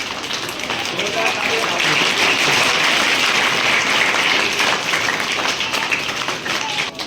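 Steady, loud applause from a school gathering in a village in the Magra area fills the whole stretch, with dense clapping and a few voices mixed in.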